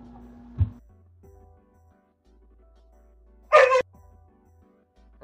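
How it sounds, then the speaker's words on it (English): A pet dog barks indoors during a video game podcast: a single sharp bark early on, then after a quiet stretch a louder, longer burst of barking, with low background hum between. "Doggy wants to join the podcast."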